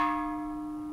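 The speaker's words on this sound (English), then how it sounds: "this light striker I got for that particular bell" A Japanese bronze Buddhist temple bell, struck with a light striker, rings out in a single clear strike, its steady tones holding and slowly fading, with no talk.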